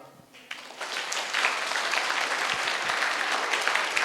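Students in a school campus hall break into dense, sustained applause that starts abruptly after a brief quiet moment and holds at a steady, fairly loud level.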